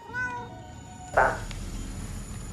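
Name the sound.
cat meowing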